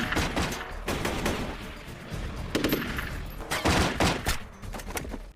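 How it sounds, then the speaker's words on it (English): Gunfire in a war film firefight: rapid bursts of automatic weapon fire and scattered single shots, loud and close, crackling in irregular clusters across the whole stretch. "Suddenly, shots are fired in Vic and Vasquez's direction."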